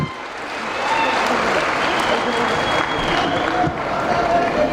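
A crowd at a memorandum submission by a Belagavi district community association gives loud, sustained applause that runs continuously through the whole stretch.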